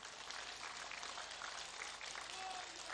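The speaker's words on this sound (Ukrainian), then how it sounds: "Я прошу вас підтримати оплесками Юлію Тимошенко." A political rally crowd applauds steadily and evenly throughout, heard faintly and from a distance.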